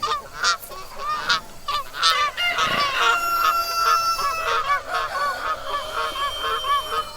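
A goose honks over and over in quick, irregular bursts, loud and near, with a few overlapping calls and no talking.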